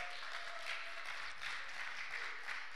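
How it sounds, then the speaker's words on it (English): A church audience claps for their pastors during a Sunday morning service, a soft, distant, steady wash of applause with no voices over it. "Let's clap for them."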